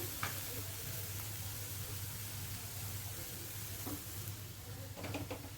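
Pieces of bitter gourd (karela) fry on a stovetop with a steady, close sizzle that runs throughout, broken by a few soft stirring scrapes and clicks.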